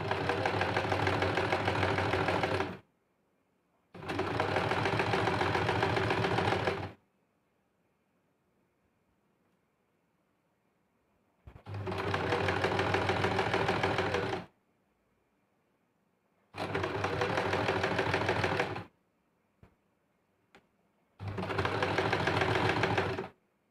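A sewing machine stitches a blouse front to its lining in five separate runs of a few seconds each, a loud, fast, even mechanical whir broken by short quiet pauses between seams, with no one talking.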